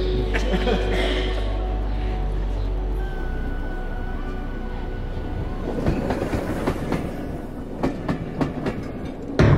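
A Rovos Rail passenger train rolls along the track in Zambia, between Lusaka and Ndola, its steady low rumble giving way to loud, irregular clickety-clack wheel beats over rail joints, heard close up.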